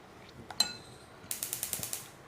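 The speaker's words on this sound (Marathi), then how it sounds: "गॅस आता ऑन करूयात" A gas stove burner ignition being switched on in a home kitchen, giving a sharp click followed by a rapid series of about seven evenly spaced ticking igniter clicks, close and fairly loud.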